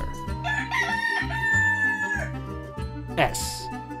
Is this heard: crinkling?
no